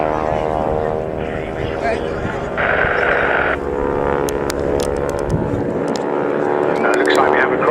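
Breitling WingWalkers display biplanes performing at the Scampton Airshow, propeller engines droning loudly and continuously overhead with pitch shifts as they pass, under a commentator's public-address voice.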